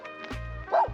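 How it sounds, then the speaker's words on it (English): Dogs at an abandoned guest house in the Algarve, Portugal, give a few close barks and yips, with a short whimpering whine between them. "There's dogs."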